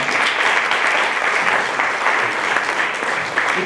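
Debate audience giving a big round of applause, dense continuous clapping that stays loud and even throughout with no talk over it.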